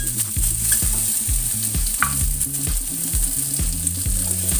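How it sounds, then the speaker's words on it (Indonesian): Carrots stir-fried in a pan, a loud, steady sizzle of frying close up, with a regular rhythm of spatula scrapes and clacks against the pan. "Tumis sampai harum. Lalu di sini nih pertama masukkan wortelnya."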